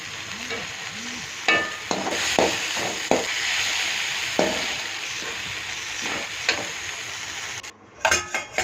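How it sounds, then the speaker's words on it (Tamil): Mint chutney ingredients sautéing in a pan, a steady sizzle broken by spatula scrapes and metallic knocks against the pan, close and moderately loud, with no voices. "இன்னொரு 2 மினிட்ஸுங்க நல்லா வணக்கிக்கிட்டே இருக்கணும்"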